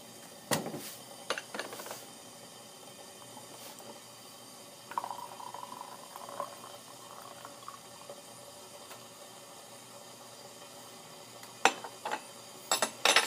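Water is poured to rinse loose tea leaves from a pressed tea cake, with intermittent splashes and trickling alongside clinks of teaware, fairly quiet and close with a longer pour in the middle.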